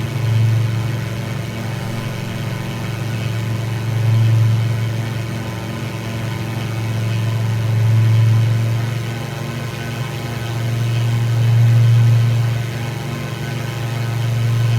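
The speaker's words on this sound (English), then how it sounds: "the noise of the engine. It's quite loud" A steady droning propeller engine of a Kitfox STi light aircraft in Microsoft Flight Simulator hums loudly throughout, its low tone swelling and easing in slow, regular waves.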